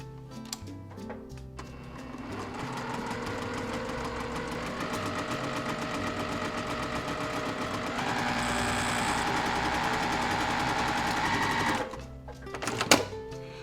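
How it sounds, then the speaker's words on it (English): Sewing machine stitching quilt block pieces corner to corner with a quarter-inch seam, a steady close mechanical whir running continuously for about ten seconds, speeding up slightly near the end before stopping, with no talk. "we're going to stitch from corner to corner with a 1/4 inch seam allowance"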